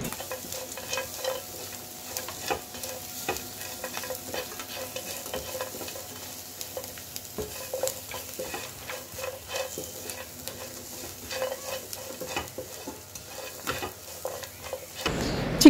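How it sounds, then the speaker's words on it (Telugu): Chicken pieces stir-fried with egg in a pan for street-style chicken egg fried rice: a continuous soft sizzle broken by frequent spatula scrapes and taps, close and steady throughout. "ఎగ్ బాగా ఫ్రై అయిన తర్వాత ముందుగా ఫ్రై చేసి పెట్టుకొని ఉన్న చికెన్ ముక్కలను వేసేసుకోవాలి."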